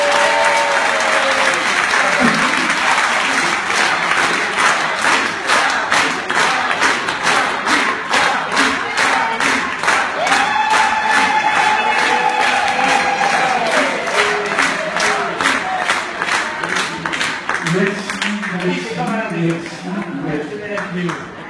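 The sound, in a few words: audience applause and cheering for a comedian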